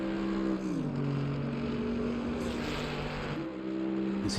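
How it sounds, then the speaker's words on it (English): Race car engines in the game Assetto Corsa Competizione at the Nürburgring drone and whine steadily, shifting pitch as they rev up and down, with no voices. "Hear the roar of the engines."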